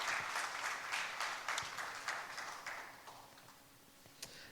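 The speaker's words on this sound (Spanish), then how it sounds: "Denle un aplauso al Señor" A church congregation applauds together, a brisk, full clatter of many hands that swells early and then thins and fades toward the end.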